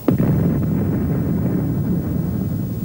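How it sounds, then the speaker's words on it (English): A high-explosive artillery shell striking its target in World War I, one sharp blast followed by a long, rumbling low roar that fills the rest of the moment. "The camera was turning at the moment the target was hit by high explosives."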